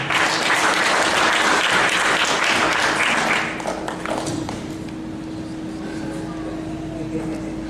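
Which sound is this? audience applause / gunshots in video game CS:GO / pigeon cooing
audience applause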